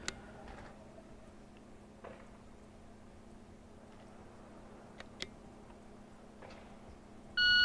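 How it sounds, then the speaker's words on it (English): An electronic shot timer beeper set to a two-second delay sounds one steady tone at the very end, following a quiet stretch with a few faint ticks and clicks from handling. "I'm going to be using this beeper right here, this timer."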